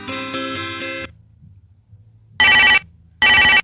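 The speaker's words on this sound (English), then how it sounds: "Uh-oh, phone call." A video game telephone rings: a harmonic chime tone first, then after a short pause two loud, bright bell bursts, each under half a second, separated by a brief gap.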